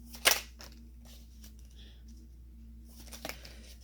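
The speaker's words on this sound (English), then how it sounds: "One more shuffle, angels." Tarot cards are shuffled in two brief, crisp riffles, one near the start and one near the end, with quiet room tone and faint handling noise between.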